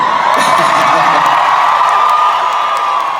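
Concert crowd at a show in Cape Town cheers and whoops loudly, a dense wash of shouts and voices that stays steady throughout.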